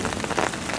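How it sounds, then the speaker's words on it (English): Steady rain falls outdoors at moderate to fairly heavy intensity, a dense, continuous patter of drops on surfaces heard close and alone with no talking. "Okay, you can hear it is now raining."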